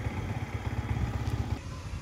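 Yamaha MT-15 motorcycle engine running warm with a throttle problem, a close, fairly quiet idle with a rapid low thudding pulse throughout.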